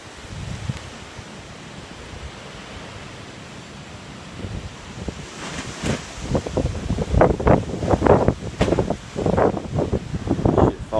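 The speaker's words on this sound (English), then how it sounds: "Wind blowing." Gusty wind blowing outdoors in eastern North Carolina after Hurricane Dorian, a steady rushing roar that swells into louder buffeting gusts in the second half, with rustling debris.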